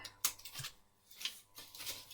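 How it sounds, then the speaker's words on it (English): Quiet, close snips of scissors cutting, a few sharp clicks spaced irregularly with soft rustling between them. "I'm just using a pair of scissors and just clipping a piece of this end."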